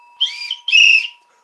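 Whistle blown in two short, shrill bursts, the second longer and louder, close by with silence after.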